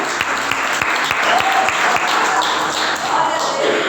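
A church congregation claps together in steady, sustained applause at a service proclaiming the empty cross, a dense roomful of hands lasting about four seconds with a faint voice underneath.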